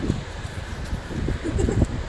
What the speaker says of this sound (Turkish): Çok rüzgar var var ya her yer her yer.